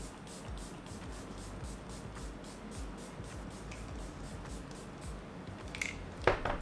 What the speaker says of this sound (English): I'm going to go in with that really cold makeup setting spray.